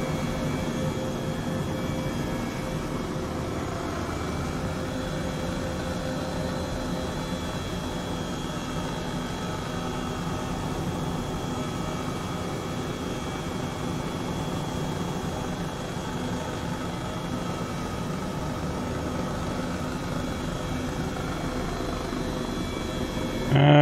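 Helicopter flying in Microsoft Flight Simulator 2020 on a route toward Iceland's Fagradalsfjall volcano: a steady, dense rotor and engine drone with a constant broadband roar, holding even throughout with no pauses.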